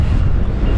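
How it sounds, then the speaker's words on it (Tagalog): Very strong wind blasts across the microphone on a shore at low tide, a loud, dense, unbroken low roar. "susuong na po tayo sa napakalakas na hangin"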